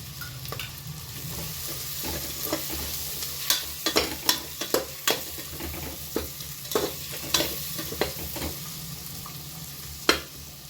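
Garam masala is stirred into a frying egg biryani masala: a low, steady sizzle beneath a dozen or so sharp scrapes and taps of a spoon against the pan, irregularly spaced, with no talking.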